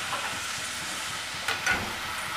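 Chopped tomatoes go into a pan of lightly cooked frying onions, giving a steady close hiss with a couple of brief louder bursts.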